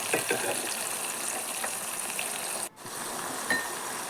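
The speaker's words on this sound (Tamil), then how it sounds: "வதக்கிக்கலாம் நல்லா மசிஞ்சு வர வரைக்கும் வதக்கிக்கலாம்" Tomatoes and onions sautéing in a pan, a continuous close frying hiss with occasional stirring scrapes and a brief dip in sound near the end, no voices.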